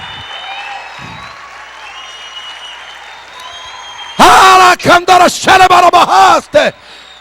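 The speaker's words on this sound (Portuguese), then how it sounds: "Aplauda mais!" A church congregation at a Portuguese-language service applauds as a preacher's voice rings out over the room, with loud bursts of clapping and cheering arriving in several surges.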